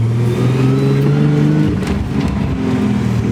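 A car engine hums and revs steadily while the car drives across a parking lot, close and loud, with the pitch shifting as it accelerates and no talking.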